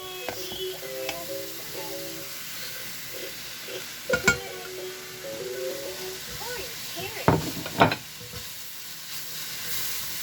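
Carrots and cabbage stir-fry in a hot pan as filling for chicken spring rolls. A steady low sizzle runs throughout, with a few sharp scrapes and clatters of a utensil, and a voice talks faintly in the background.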